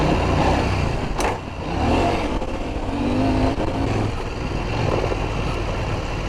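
A CFMOTO 800MT-X (IBEX) adventure motorcycle climbs off-road in second gear, its engine pulling smoothly from low revs with a steady, fairly loud drone and a brief rise partway through.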